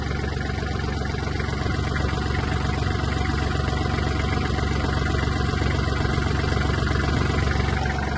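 A Japanese Kubota GL-260 mini tractor idles steadily once warmed up, its small engine running in an even, continuous drone close by with no talk over it.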